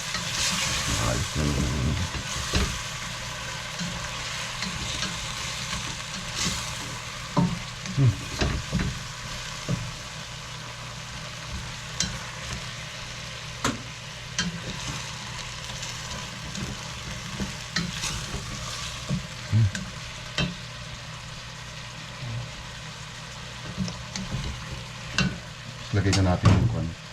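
Kaldereta stirred and frying in a pan, a steady sizzle with scraping stir strokes and occasional clinks of the utensil against the pan, with a short spoken remark near the start.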